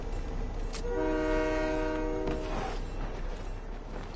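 A train in the video game Fortnite sounds a sustained multi-tone horn blast for about a second and a half over a constant rumble, followed by clattering rail noise.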